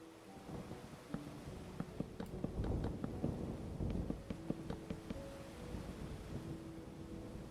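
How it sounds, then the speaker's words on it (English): Thunder rumbles through a storm in the video game Tornado Survival, deep rolling booms rising and falling over steady rain and wind, with scattered sharp cracks. "Okay, we do have thunder."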